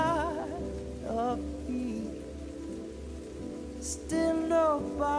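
Heavy rain falls steadily on an island, a dense, continuous wash of drops heard close, with tonal music-like sounds layered over the downpour.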